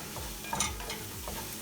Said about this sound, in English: So now a little bit higher heat and just scramble it nice